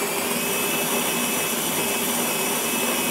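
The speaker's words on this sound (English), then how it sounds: "we'll just push the button. Now what's happening now is that chute's probably pretty empty. Right. So you'll see it'll suck a lot of beans in there." A Gaggia Titanium coffee grinder runs steadily, drawing beans into its chute with a loud, continuous whirring roar and no pauses.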